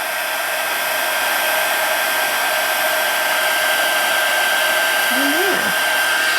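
A heat tool melts embossing powder on a handmade card, giving a steady, loud, unbroken blowing roar throughout with a constant high whine and no talking.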